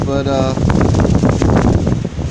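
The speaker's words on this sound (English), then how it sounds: "it's pretty windy." Strong nor'easter gusts blowing outdoors by the Chesapeake shore, loud broadband buffeting against the microphone, rising after a short opening word and staying rough and constant.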